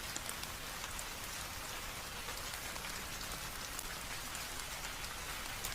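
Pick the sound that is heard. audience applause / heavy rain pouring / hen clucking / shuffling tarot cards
heavy rain pouring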